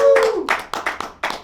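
A small crowd applauds in a studio setting for a guest introduced on a gardening show, a few bursts of clapping following a brief tone, close and moderately loud.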